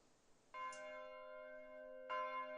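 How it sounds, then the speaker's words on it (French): Four bells of the village church in Caige, in the Beaufortin valley, ring out. Two clear strikes about a second and a half apart each bloom into a long, humming resonance that carries on undisturbed, with no voices. "les 4 cloches de l'église du village de Caige résonnent"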